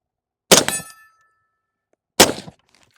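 Norinco SKS rounds striking steel targets on a range, two sharp distant clangs about a second and a half apart, each with a brief ringing tail, quiet between them and no speech.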